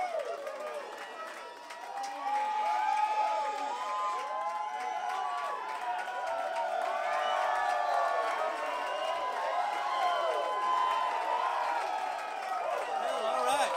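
A crowd at the River Street Jazz Cafe applauds and cheers a band, a sustained roar of clapping, whoops and whistles that swells after a quieter start and keeps going, with shouting voices mixed in.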